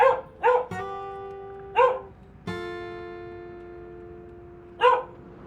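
A small, ferocious dog that bounds out of its yard yaps several times in short, sharp bursts nearby, while a loud sustained horn-like tone rings out between the barks.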